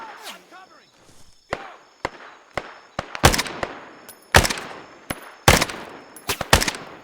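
Bursts of gunfire ring out in a Vietnam War combat game, SOG Prairie Fire, with several loud, sharp shots and rapid volleys close by, interspersed with quieter pops and radio-style voices calling out.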